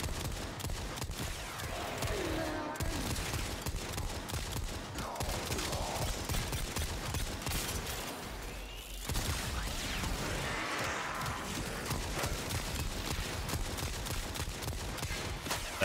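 Rapid bursts of weapon fire from the Veldt rifle in Warframe, steady and fairly quiet, a dense run of shots with a metallic ping edge and no talking.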